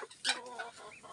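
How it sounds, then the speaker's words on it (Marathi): Free-range country hens on a farm give a few short, clear clucks close by, one louder burst followed by softer murmuring calls, with no talk. "वर गावरान कोंबड्या"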